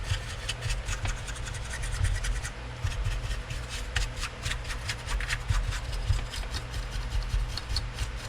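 A Nintendo GameCube part being cleaned by hand gives off a steady, soft rubbing and scratching, a fairly quiet, continuous rasping texture with no voices.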